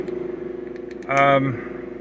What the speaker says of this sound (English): the engine noises seem like they're about right